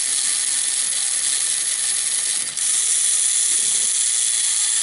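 A 50-year-old Mr Mercury toy robot runs its motor against a spring mechanism, giving a loud, close, steady mechanical whir and hiss with one short dip near the middle. Nobody talks.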